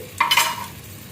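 Onions frying with curry leaves and ginger garlic paste in a pan for a potato tomato curry. A quick stir brings a short burst of sizzling that fades within about a second.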